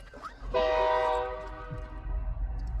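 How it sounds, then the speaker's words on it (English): A loud train passes at midnight in Marysville, Washington, its horn blaring in a long sustained blast over the heavy rumble of the cars, close by and dominating the scene. "Very loud train."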